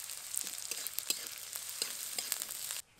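Chopped onions hit hot oil that already holds fried garlic and ginger, giving a bright, crackling sizzle with spitting pops, loud and close, until it cuts off abruptly near the end.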